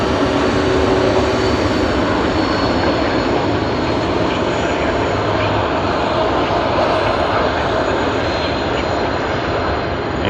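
Jet aircraft VH-OGB at Sydney Airport gives off a loud, continuous broadband engine roar that stays even for the whole stretch, with no talking.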